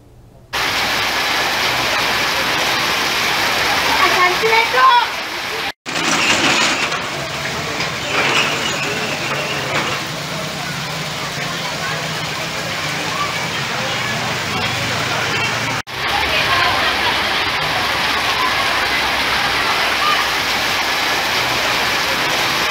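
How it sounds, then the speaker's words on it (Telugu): Heavy unseasonal rain pours down on an open weekly market, a loud steady hissing downpour that continues throughout with a couple of abrupt breaks. "ఈ అకాల వర్షం కారణంగా వ్యాపారులకు ఆర్థికంగా నష్టం వాటిల్లింది."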